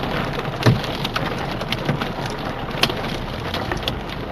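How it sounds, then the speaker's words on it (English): Hail and heavy rain pound on a car in a Monument Valley storm, a dense, loud, continuous patter with sharper individual hits and occasional low thunder-like rumbles. "Oh, that's hail."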